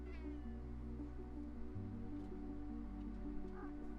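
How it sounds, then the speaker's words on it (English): A cat meows repeatedly in a video game trailer, its cries rising clearly over a steady, loud music bed with a low droning bass throughout. "Just a cat."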